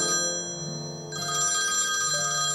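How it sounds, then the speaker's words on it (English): Telephone ringing with a steady electronic ringtone tone, moderately loud and alone without voices, the ring pattern shifting slightly partway through. "Daddy, why won't you answer the phone?"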